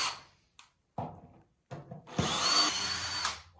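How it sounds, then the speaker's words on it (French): A power drill backs screws out of small metal brackets on scaffolding, with short separate whirs and knocks at first, then a longer, loud continuous grinding spin near the listener. "on enlève toutes les petites équerres. Donc, on dévisse."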